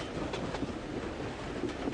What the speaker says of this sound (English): The train was getting nearer and nearer to Dover.